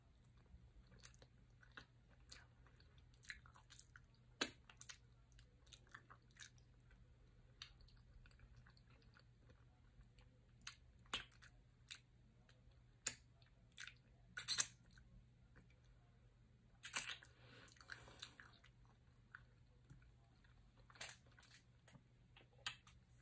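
Someone eats fufu with tomato basil tuna and chickpea soup, giving faint, close, sporadic chewing and biting sounds with a few louder smacks over a low steady hum, and no talking.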